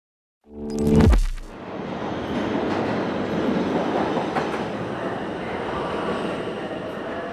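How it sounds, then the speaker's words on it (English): A subway train rumbles through the 72nd Street station, starting with a loud squeal or horn burst and then a steady, loud roar and clatter that fills the platform. "I'm in the 72nd Street subway station"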